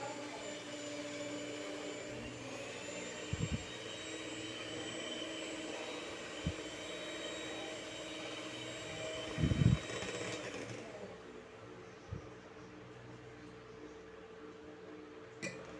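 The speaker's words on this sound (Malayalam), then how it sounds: "ഈ മുട്ടൻ്റെ മിക്സിയിലേക്ക് ഒന്ന് ഇട്ട് കൊടുത്തിക്കണം എന്നിട്ട് ഇത് നന്നായിട്ട് ഇനി ഒന്ന് ബീറ്റ് ചെയ്തെടുക്കാം" A steady electric mixer whirs continuously for several seconds beating egg batter, with a few brief clunks, then drops to a quieter hum toward the end.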